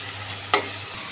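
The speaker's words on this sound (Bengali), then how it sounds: "এখন তেলের মধ্যে শুটকি মাছটা একটু হালকা ভাজা নিব।" Dried fish lightly frying in hot oil with garlic paste and turmeric: a steady soft sizzle throughout, broken by one sharp, brief crackling burst midway as the fish hits the oil.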